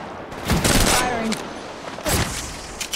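Gunfire in the mobile shooter Apex Legends Mobile: a loud volley of rapid shots, a short pause, then another sharp burst, all close and punchy against the game's background sound.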